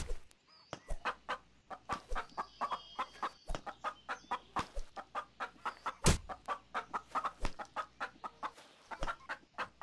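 A chicken in the Gone Survival video game clucks rapidly and repeatedly in a steady, pulsing rhythm, close and moderately loud, with a few sharper clicks mixed in and no talk.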